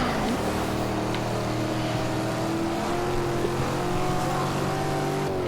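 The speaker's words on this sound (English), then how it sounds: "But this Javelin, man, this Javelin handles smooth as silk" An AMC Javelin in the Forza Horizon video game drives with a loud, continuous engine drone. Its steady harmonic whine rises gently in pitch as the car pulls along.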